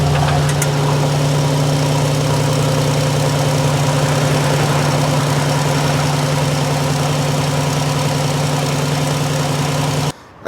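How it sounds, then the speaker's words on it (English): A 2023 Mercedes-Benz Maybach S580 engine on a cold start runs at a steady, smooth idle with a low hum and faint vibration, continuing evenly until it cuts off abruptly at the end. "let's get a cold start on the car"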